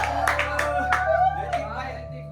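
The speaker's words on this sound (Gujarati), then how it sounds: "બધા તાળી પાડી જો, બધા તાળી પાડી જો." Scattered handclaps from a small group celebrating the winner of a guess-the-drink challenge, a few sharp separate claps mixed with voices over a faint steady background tone.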